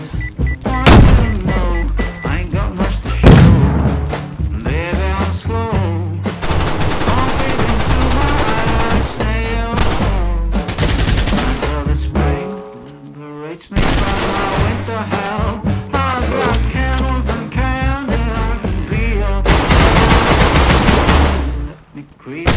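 Automatic gunfire sprays in bursts in the DayZ video game, loud and dense across most of the stretch with brief pauses between volleys, while voices talk over the shooting.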